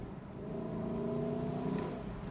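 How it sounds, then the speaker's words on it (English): Lexus LC500 convertible's engine revs on a gear downshift, a steady sustained drone of engine tone with layered harmonics, moderately loud and close, no talking. "You heard when I drop a gear,"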